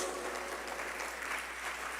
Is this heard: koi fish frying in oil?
no